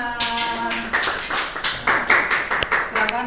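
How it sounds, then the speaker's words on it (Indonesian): Scattered claps and light applause from a small classroom group, with voices talking over it; it starts loosely and picks up toward the end. "Oke, tepuk tangan."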